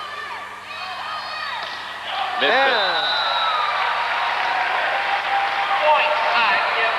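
A crowd cheers inside a gym during a 1998 men's college volleyball match between IPFW and Penn State. A whistle sounds, then a swell of roaring, clapping noise fills the building while a commentator talks over it.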